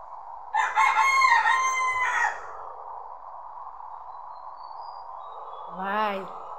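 A chicken crows aboard an Ena bus crossing the Padma Bridge, one loud drawn-out crow of about two seconds over the bus's steady engine drone, followed by a shorter call near the end.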